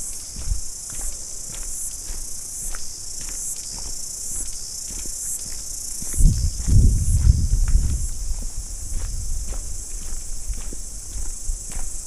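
Cicadas chirp in a high, continuous shrill along a forest trail in New Zealand, with footsteps and a brief low rumble in the middle.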